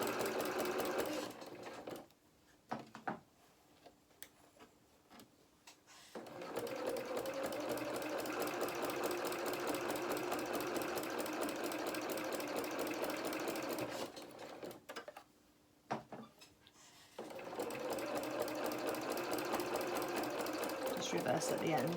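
A sewing machine stitches a long seam on a small doll's winter skating coat, running in long steady stretches with brief quiet pauses, close and moderately loud.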